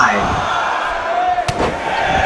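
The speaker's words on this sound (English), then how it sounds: "The trademark 10 elbow smash." Wrestling elbow smash in the ring, one sharp slam on the mat, loud and brief, heard over steady crowd noise, with commentators talking throughout.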